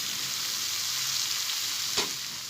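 Morolia greens hit a hot pan with cooked tomatoes and fry in a loud, continuous hiss, with a single scrape of a spatula near the end.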